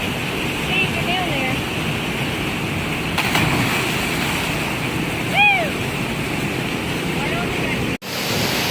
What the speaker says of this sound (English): So we're at the lower falls.